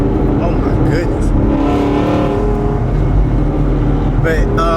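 A loud, high-horsepower car engine idles and rumbles steadily near the microphone, with a brief rise in revs, while people talk over it.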